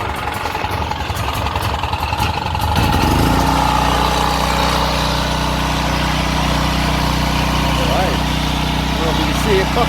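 A Champion 3500 watt CPE power generator with a dirty carburetor and fuel in its oil cranks and catches after a few seconds, then settles into a loud, steady, humming idle.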